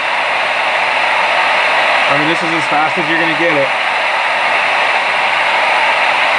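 A hair dryer, cutting off and on, blows with a steady, loud whoosh throughout while someone briefly speaks over it.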